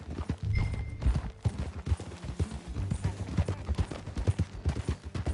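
Rhythmic hoofbeats clatter quickly and loudly in Red Dead Redemption 2, a horse galloping at close range with a brief whinny near the start.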